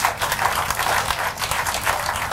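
An audience claps and applauds at a live rock concert in a club, a steady dense wash of clapping filling the whole stretch without pause.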